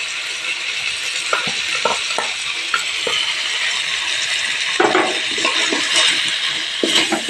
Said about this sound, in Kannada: ಇವಾಗ ಇದೊಂದು 10 ಮಿನಿಟ್ಸ್ ಫ್ರೈ ಆಗಲಿ